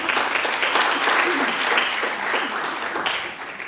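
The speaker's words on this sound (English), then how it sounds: "So I think a round of applause would be good for Amika." An audience claps for Amika, a robot on stage at a National Robotarium talk, giving a dense, steady round of applause that fills the room and tapers off slightly at the end.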